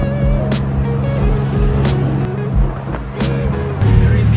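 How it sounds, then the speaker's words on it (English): A tuk-tuk carries four passengers through Bangkok traffic, its engine droning steadily up close with a low rumble and shifting pitch, joined by passing road noise and occasional whooshes, with no talking. "I always thought that tuk-tuks are slow-moving, gentle vehicles"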